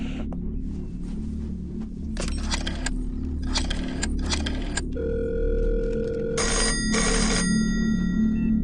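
A telephone ringing with an incoming call in a film scene, several bursts of electronic ringing with brief pauses, a sustained tone, and a low background hum beneath.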